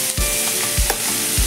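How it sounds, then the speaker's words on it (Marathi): Finely chopped tomatoes sizzle steadily in an oiled frying pan for Gawar bhaji, with a close, soft frying hiss broken by three low scraping stirs of a spoon. "आता मी त्यामध्ये हे चिरून घेतलेले, बारीक चिरून घेतलेले टोमॅटो घालते।"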